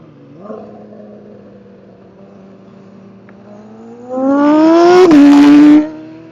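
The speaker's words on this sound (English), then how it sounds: "A turbo production motorcycle" A turbocharged Hayabusa production motorcycle idles steadily, then revs hard and accelerates, its loud engine note rising in pitch with a brief shift hitch before cutting off near the end.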